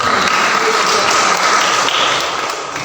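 Dense, steady crowd clapping for Sunday school teachers during a Christmas church sermon, filling the whole stretch at full strength and easing off slightly at the end, with no voices over it.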